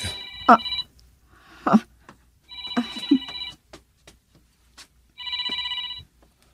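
A cellphone rings with an incoming call, its electronic ringtone sounding in three bright bursts, while voices speak around and between them at close range.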